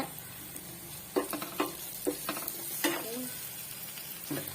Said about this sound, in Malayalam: ഇനി ഇപ്പൊ ഇത് വഴറ്റണം.